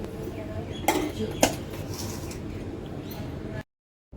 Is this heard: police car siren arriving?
no